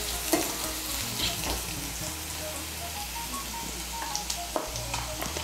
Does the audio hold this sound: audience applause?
no